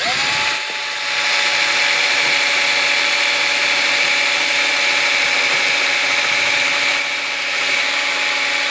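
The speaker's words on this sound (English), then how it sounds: "I'm using a battery operated drill." A battery-powered drill whirs steadily while drilling out rivets on a narrowboat's metal hull, starting up with a rising whine and then running at a constant high pitch for several seconds, close and loud, with no talking.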